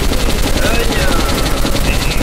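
Rapid machine gun fire in the video game Metro Last Light, a dense continuous burst of shots with a steady rattling rhythm, loud and close, with a voice faintly mixed in.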